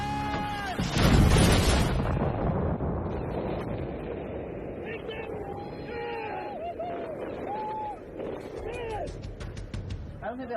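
Bomb blasts in Afghanistan combat: a loud, deep boom near the start rolls out into a long rumbling tail, with fainter whistling and scattered crackles continuing behind it.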